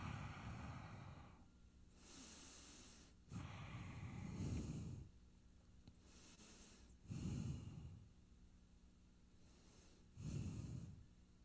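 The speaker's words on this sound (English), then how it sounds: "3 deep breaths." Deep, slow yoga breaths during a twist pose, three long audible inhale-exhale cycles with airy hiss, close and quiet, no talking.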